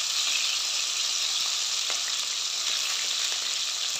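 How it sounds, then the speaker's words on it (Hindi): Chopped onion hitting hot oil for a cabbage sabzi, a loud dense hiss of frying with a few faint stirring clicks, steady and close, with no voices. "कटा हुआ प्याज ऐड करेंगे दरमियाने साइज पर।"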